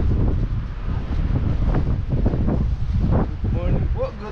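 Strong wind buffets the microphone high up on an open-air spot, a constant rumbling roar with gusting swells, and faint voices come through near the end.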